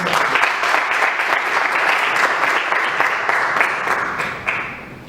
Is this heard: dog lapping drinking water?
no